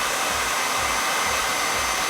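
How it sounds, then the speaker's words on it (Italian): A high-temperature body shop heat gun blows steadily while drying an MTB disc brake pad, giving a loud, continuous airy roar with a low motor hum that runs unbroken for the whole stretch, with no talking. "andiamo a asciugare con un phon da carrozziere"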